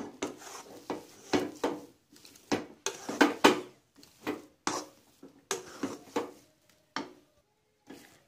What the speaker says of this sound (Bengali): এভাবে আপনারা ভালো করে নাড়তে থাকবেন।